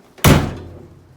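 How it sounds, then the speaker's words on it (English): A car door on a 1967 Volkswagen Beetle slams shut with a single loud, solid thunk close up, ringing briefly and then fading away. "close the door. No problems."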